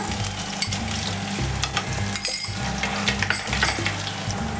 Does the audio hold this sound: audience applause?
no